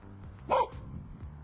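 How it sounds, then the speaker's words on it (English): A single sharp dog bark, close and brief, over a quiet background with faint rustling. "Even the dog doesn't like your presence."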